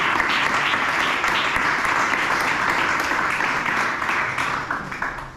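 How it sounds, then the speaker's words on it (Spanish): An audience in Castejón del Puente gives warm, sustained applause at a church gathering; dense clapping holds steady, then tapers slightly near the end. "vamos a recibirte con un fuerte aplauso para que no tengan nervios"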